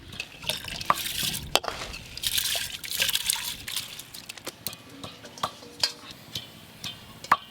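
Washed basmati rice pours into a pot of warm water, with a rush of sloshing followed by scattered drips and small splashes close by.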